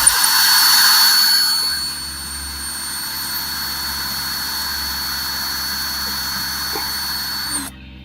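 A power drill spins a worn-out bit against a wall, a loud steady high whine that eases slightly after the first couple of seconds and then stops abruptly near the end.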